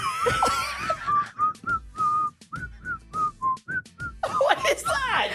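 A person whistles a short tune of clear, high notes, near and moderately loud, with laughter and talking before and after.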